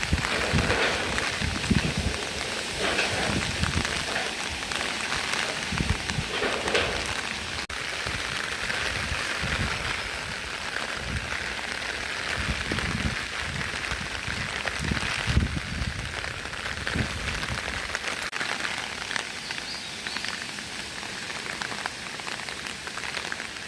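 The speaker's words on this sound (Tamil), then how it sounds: "கடுமையாக புயல் அடித்து கொண்டிருக்கு" Heavy rain lashes down steadily during a cyclone storm in Chavakachcheri, a dense, constant roar of drops on surfaces with no pauses and no voices.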